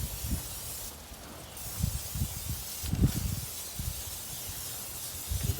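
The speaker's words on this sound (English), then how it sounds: "Spray her on down." A turkey being spritzed inside a Pit Boss electric smoker, heard as two short, close hissing sprays set against low clunks and handling noise.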